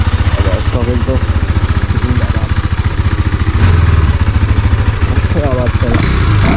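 A KTM Duke 390 fitted with an Akrapovič exhaust idles up close, a steady, fast, rhythmic thumping that stays even throughout with no voices.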